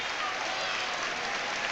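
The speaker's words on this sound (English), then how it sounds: "And he's getting some support from the crowd." Dense applause from the crowd at the 1993 IHSA boys gymnastics state finals supports a gymnast, a sustained even wash of clapping with no pauses.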